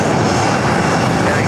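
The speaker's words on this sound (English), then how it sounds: "Dreamliner will be taxiing right below our campus here." A Boeing Dreamliner airliner taxis at JFK airport, its steady, loud engine roar filling the air continuously from close by without letup.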